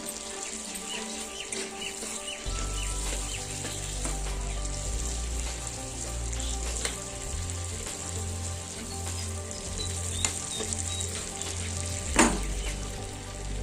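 Two dry red chillies fry in melted butter and oil, giving a loud, steady sizzle that jumps up after a couple of seconds and then crackles evenly, with an occasional sharp pop.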